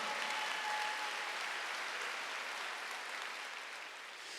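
A church congregation at a Wednesday worship service applauds in a steady, dense burst of clapping that fades slightly toward the end.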